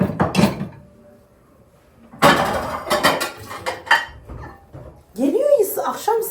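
Dishes clatter and clink in bursts, plates and cutlery knocking together close by, with a voice speaking between the clatters.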